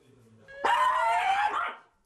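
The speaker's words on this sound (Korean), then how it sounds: "보호자 품에 안겨서도 으르렁대며 슬슬 시동 거는 녀석" A small dog named Choco, held in its owner's arms, lets out a short, close, high-pitched bark that rises from a low growl and briefly swells into a sharp whining yap.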